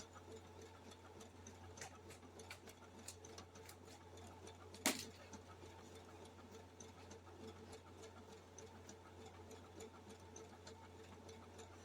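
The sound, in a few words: sewing machine sewing applique fabric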